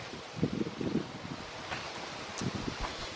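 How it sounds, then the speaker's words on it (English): Gusty wind buffets a backyard vegetable garden with young corn and squash, rustling foliage and rumbling against the microphone in uneven surges, with no voices. "it's so windy here."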